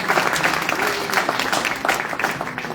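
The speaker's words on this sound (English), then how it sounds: "So can we give all of our speakers one more round of applause?" Audience at a community speaking event in Ridgefield, New Jersey, gives the speakers a sustained round of applause, dense clapping filling the room steadily without pause, with a few faint voices mixed in.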